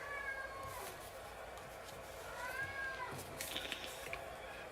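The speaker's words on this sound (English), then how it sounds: "It sounds like my cat wants to be fed for about the 7th time today." A domestic cat meows repeatedly, wanting to be fed, with several drawn-out cries at close range over a steady background hiss, with faint talk underneath.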